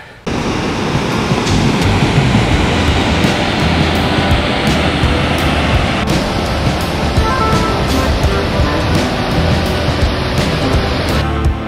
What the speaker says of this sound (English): I think I hear another waterfall that we're coming up to